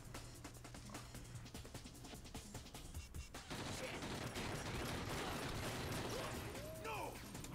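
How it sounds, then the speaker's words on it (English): Enemies shooting down from above in the Red Steel video game, with rapid gunfire rattling through a dense, noisy mix, loudening about halfway through. "they're shooting from the top"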